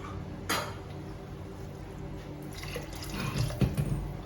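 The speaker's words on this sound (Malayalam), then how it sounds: "കുറച്ച് വെള്ളം ഒഴിക്കുക, മഞ്ഞൾപ്പൊടി ഉപ്പ് ഇട്ടിട്ട് ഈ വെണ്ടയ്ക്ക ഒന്ന് വേവിക്കാൻ വെക്കണം" Water pours into a pot of okra (vendakka) being set to cook with turmeric and salt for a coconut sambar, a soft steady splash with a brief louder gush near the start and clinks of the pot toward the end.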